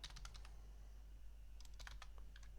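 Soft clicking keystrokes on a computer keyboard, typed in two short bursts separated by a pause, faint and close over a low steady hum.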